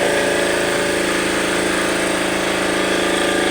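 A loud welding generator engine drones steadily throughout, a constant mechanical hum with a faint rapid pulsing and no voices.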